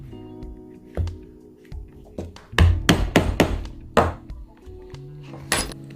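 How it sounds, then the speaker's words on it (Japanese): Leather being punched for stitching holes, a run of sharp metallic hammer strikes on a tool, irregular then quickening into clustered taps, close and clear. "こんな感じで線状にどんどん穴を開けていってください。"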